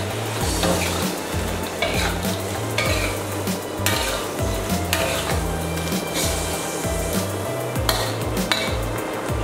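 Duck pieces are stirred and turned in a pot with a clattering utensil, loud close scraping and knocking over a steady sizzle, irregular strokes continuing throughout with no voices.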